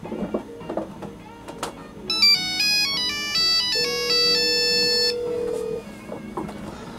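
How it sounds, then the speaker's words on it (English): An old Nokia 5185i mobile phone ringtone plays a bright, beeping melody of quick electronic notes for a few seconds, with a steady held tone beneath it and faint background noise. "I'll go ahead and dial the number now. And if all goes well, it should ring."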